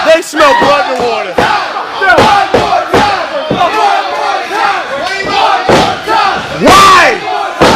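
A wrestling tournament crowd roars and shouts in surges, with sharp slams and thuds from the ring punctuating the loud, dense cheering throughout.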